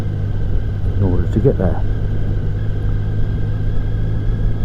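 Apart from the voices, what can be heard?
Triumph Sprint GT motorcycle riding on road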